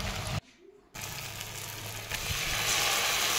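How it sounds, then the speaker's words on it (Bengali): Chopped onion hits hot oil with dried chillies in a pan, a sizzling fry that drops out briefly, then resumes and grows louder and steadier. "শুকনো লঙ্কা ভাজা হয়ে গেছে, এখন দিয়ে দিলাম পেঁয়াজ কুচি"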